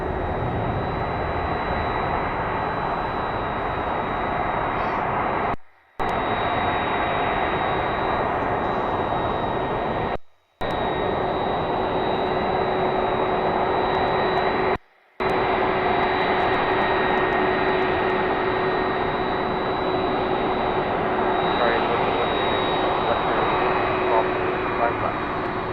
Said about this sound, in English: Now we got the other 777 that just landed here